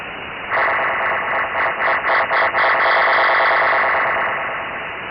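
A meteor scatter radio reflection carries a repeated digital data message exchanged between two stations, a burst of hissy band-limited radio noise with quick pulsing chirps of data riding on top. The burst swells and then fades over several seconds.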